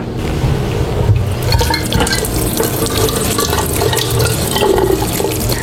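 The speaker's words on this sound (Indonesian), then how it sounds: "ini harus dibilas lagi untuk menghilangkan bulu halus yang sudah terbakar" Running water pours steadily over food being rinsed of singed fine hairs, a loud, continuous splashing stream with no talk.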